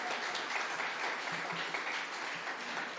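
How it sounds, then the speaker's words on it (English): An audience at the grand opening of the Red McCombs Recovery Center claps steadily for about three seconds in a soft, even patter from many hands. "Y'all can clap for her too."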